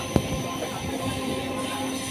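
An EMU local train, the Haldia Fast from Howrah to Tamluk, running into Santragachi station near Kolkata: a steady rolling rumble and hum from inside the carriage, with a brief knock near the start and no talking.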